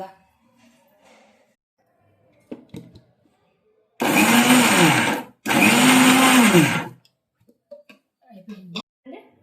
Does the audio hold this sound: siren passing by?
no